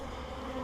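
Honey bees buzz in a dense, steady drone during a hive inspection, the swarm close and continuous without pause.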